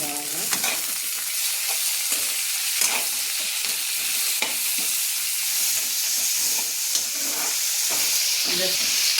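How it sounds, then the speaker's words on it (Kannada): Chopped tomatoes sizzle in a pan of browned onions for an onion chutney, with a steady loud fry and hiss, broken up by repeated scraping stirs of a spoon against the pan. "ಈಗ ಟಮಾಟೆ ಹಾಕಿರ್ತೀನಿ."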